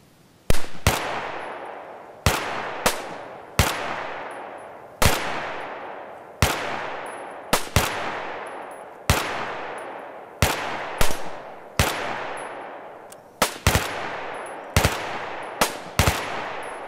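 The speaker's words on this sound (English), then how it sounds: "Today we'll be looking at the G36. Let's give it a listen." G36 carbine gunfire, in both full-length and short G36C form, shown in Battlefield 3 and in real life: separate loud sharp shots and short bursts, each with a long echoing tail, spaced across the recording with no speech.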